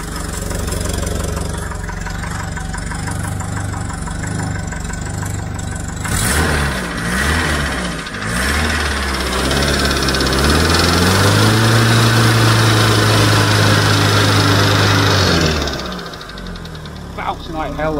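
A Ford Cortina Mk3 engine with a knocking cam runs steadily and close, its low mechanical drone continuing throughout with a pitch shift midway and easing near the end, while people talk over it.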